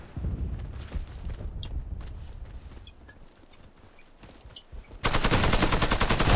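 Rapid bursts of gunfire in the video game Warface with clattering footsteps, ending in a sudden loud, continuous blast of automatic fire.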